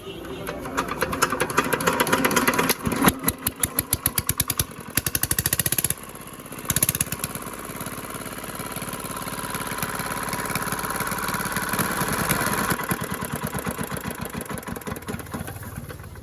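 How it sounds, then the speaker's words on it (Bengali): A second-hand Chinese small diesel engine runs with no silencer, a loud, rapid, harsh chugging that briefly drops out near the middle and then settles into a steady running beat. "ইঞ্জিনটা আপনাদেরকে স্টার্ট করে দেখাই, তাহলে আপনারা বুঝতে পারবেন ইঞ্জিনের কন্ডিশনটা কিরকম আছে।"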